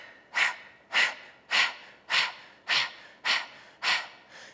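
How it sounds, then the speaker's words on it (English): Breath of fire yoga breathing: a steady run of seven short, forceful exhales through the nose, evenly spaced about half a second apart, close and clear with no talking. "as we exhale, we're gonna do short, strong exhales all in a row"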